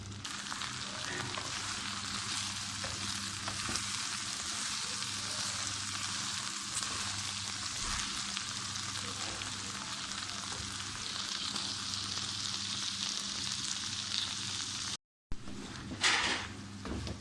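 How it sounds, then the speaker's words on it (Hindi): Pendi (a fried chopped ingredient) frying in hot oil in a home kitchen gives a steady, loud sizzle all the way through, with a short break near the end before the crackle returns. "अब तेल के अंदर हम पेंडी डाल लेते हैं।"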